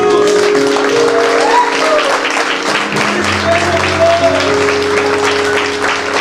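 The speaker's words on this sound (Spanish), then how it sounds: "Vamos a darle una ofrenda de palmas a Jesús." A church congregation claps together as an offering of applause to Jesus, a loud, dense and sustained patter that runs through the whole stretch, with sustained music tones underneath and a voice calling out over it.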